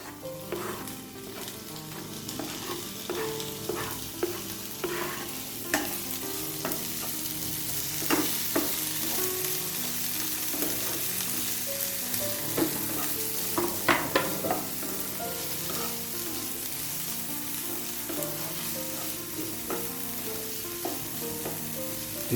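Tomatoes fry in hot oil in a pan with a continuous close sizzle, broken by repeated scraping and clicking strokes of a stirring spoon.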